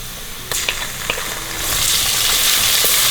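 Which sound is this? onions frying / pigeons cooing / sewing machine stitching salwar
onions frying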